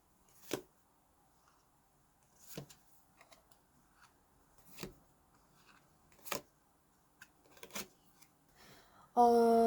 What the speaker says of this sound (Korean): 자, 그럼 여기 파란 곰님부터 카드 펼쳐볼게요